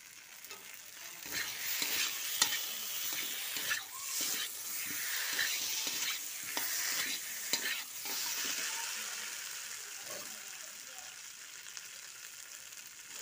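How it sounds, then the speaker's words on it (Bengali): Eggplant frying and being stirred in a hot pan, a continuous bright sizzle broken by repeated scraping and stirring clatters. It stays close and even throughout. "বেগুনটা ভেজে নিচ্ছি"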